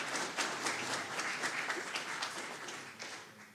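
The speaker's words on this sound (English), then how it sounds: "let's give the round of applause." A conference audience at a tech summit applauds after a talk, a steady, fairly distant wash of many hands clapping that holds for several seconds and gently tapers off.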